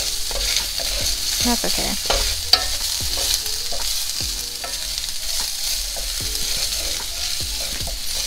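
Ginger fries in a pan for orange cauliflower, a constant close sizzle with repeated scraping strokes of stirring; a voice briefly speaks.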